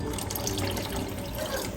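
Water streams steadily into a pot of rice for pulao, a continuous close-up pouring and splashing with no pause throughout.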